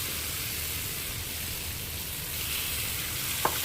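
Bitter gourd curry sizzling steadily in a pan after onion paste is stirred in, a dense continuous frying hiss with a single brief spoon knock near the end.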